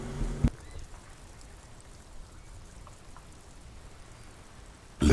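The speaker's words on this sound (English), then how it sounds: "That rain's cool." Steady, soft rain hiss fills the scene in the video game Disco Elysium, a constant even patter with brief louder thumps at the start and end, no voices over it.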